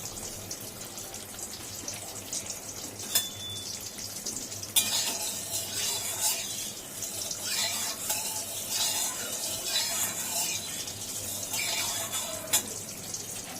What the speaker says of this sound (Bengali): কালো জিরে দেবে, দিয়ে আলুটাকে হালকা ভেজে নেবে।